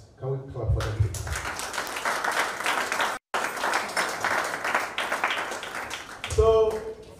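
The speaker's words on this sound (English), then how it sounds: "Can we clap for them, please?" An audience at a Ghana Football Association sponsorship announcement breaks into loud, sustained applause, with dense clapping that briefly cuts out and then resumes.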